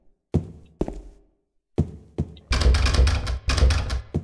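Door being rattled in Silent Hill 2: a few isolated knocking thuds separated by silence, then a loud, dense burst of heavy rattling and clattering against a locked door.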